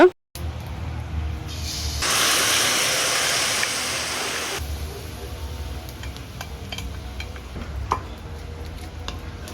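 Kithul treacle with cardamom and cloves being stirred in a pan, a soft scraping stir with a burst of bubbling sizzle midway, then quieter scattered spoon clicks and scrapes.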